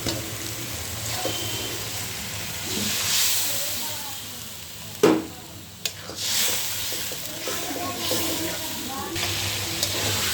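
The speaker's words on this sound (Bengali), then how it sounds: "আমি আলু দিয়ে আগে কষিয়ে নিচ্ছি।" Potatoes hiss and sizzle steadily in a hot pan, with a couple of sharp clatters midway.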